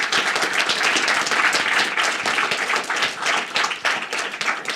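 A seated audience gives a round of applause to a participant at a music discussion event, a dense and fairly loud continuous clapping that holds steady for several seconds.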